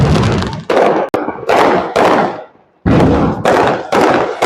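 Diwali firecracker bombs going off in Jamnagar, a rapid series of loud, close booming bursts with brief gaps between them, heavy and dominant throughout.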